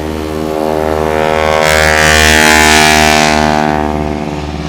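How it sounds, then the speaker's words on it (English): A de Havilland Beaver's radial engine roars at full power on its takeoff roll at a short takeoff and landing practice event, a loud, rough droning growl that swells and then eases slightly. "Here's the Beaver on the roll."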